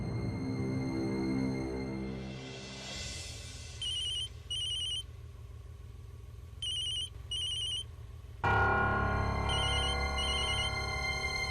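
A phone rings in short electronic double bursts, repeated twice over a steady background hum and music, fairly clear and close.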